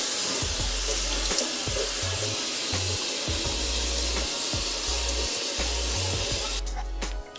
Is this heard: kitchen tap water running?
yes